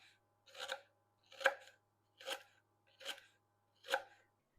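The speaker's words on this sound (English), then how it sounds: "If they're thin pieces, you can just go down and cut like slices like these." A knife cuts rhubarb into thin slices on a cutting board, six crisp, evenly spaced chops about a second apart, close and clear against a quiet background.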